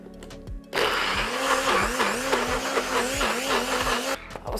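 A kitchen blender runs loud and steady, grinding a spice mix with crumbled shrimp paste, its motor pitch wavering slightly for several seconds before it cuts off, with no talk.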